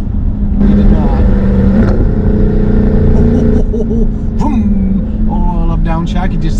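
A 475-horsepower all-wheel-drive car engine hums and revs as gears are shifted up and down, heard from inside the cabin with people talking over it.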